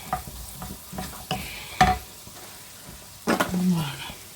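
Onions being stirred in a frying pan with a spoon, several distinct scraping strokes over a soft sizzle, close up and with no talking.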